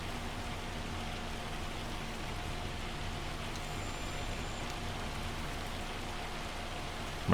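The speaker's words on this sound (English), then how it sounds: "Hopefully I don't get any more hail damage here." Hail storm in the Farming Simulator 25 video game, a steady dense hiss of pelting ice and rain on surfaces, constant and even throughout without talk.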